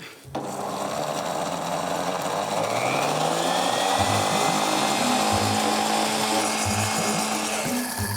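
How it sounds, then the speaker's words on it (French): A blender whirs loudly, mixing lemon juice with coriander for a lamb burger sauce, its motor starting abruptly and then grinding steadily with shifting pitch and a few thumping pulses near the end. "on va mettre d'abord la moitié du jus de citron, un peu de coriandre. On va mixer."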